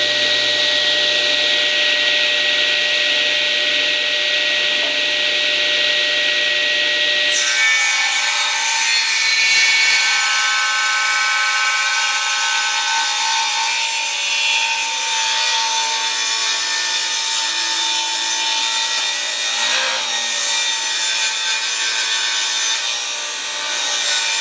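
A table saw cutting through cedar wood, its motor whining steadily before the blade bites in, then a loud, sustained rasping cut with a bright, buzzing edge that holds for many seconds.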